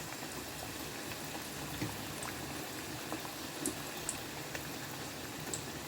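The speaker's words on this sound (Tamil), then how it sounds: "இப்போ காயிற எண்ணெயில் நாம் ஒரு சமோசாவாக விட்டுடலாங்க." Wheat-flour samosa frying slowly in hot oil, a soft, steady bubbling sizzle with scattered faint crackles and pops.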